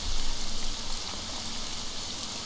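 Dense, steady hiss of falling rain in the video game Morrowind, loudest at the start and then settling into an even patter.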